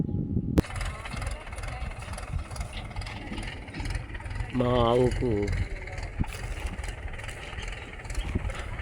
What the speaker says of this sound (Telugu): ఇది తీసుకొని వెళ్ళడానికని ట్రాక్టర్ తీసుకురావడం జరిగింది